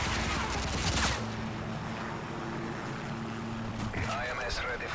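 Rapid gunfire bursts in the video game Call of Duty MW3 team deathmatch, a loud dense volley at the start, then steady game noise with a voice talking over it.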